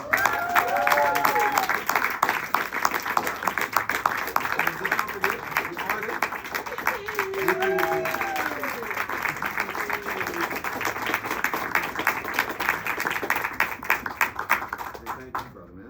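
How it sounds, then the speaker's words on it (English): An audience at a book signing launch party applauds steadily for about fifteen seconds, a dense wash of many hands clapping, with voices murmuring underneath until it tapers off. "we'd like to give a big round of applause to"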